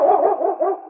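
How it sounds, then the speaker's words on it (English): A dog barking in an old 1950 radio drama, Challenge of the Yukon, a quick run of several loud close barks and yips with a thin, dated broadcast tone. "It's Yukon King, swiftest and strongest lead dog of the Northwest"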